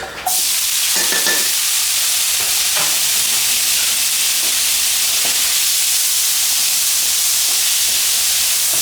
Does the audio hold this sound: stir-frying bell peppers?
yes